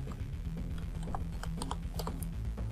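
Keys clatter on a computer keyboard as a name is typed during Windows 10 setup in a VirtualBox virtual machine, a quick run of close, crisp taps over a low steady hum.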